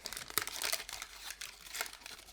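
A wrapper crinkles and rustles close by as a bar of 85% dark chocolate is unwrapped, quick uneven crackles with one sharper tear, faint and without voices.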